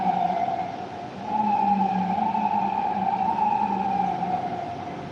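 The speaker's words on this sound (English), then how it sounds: "You hear the sirens?" Emergency sirens wail steadily at a moderate distance, their tone rising slightly partway through and holding over background hum.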